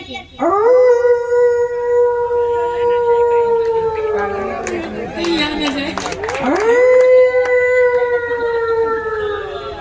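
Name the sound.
child imitating wolf howl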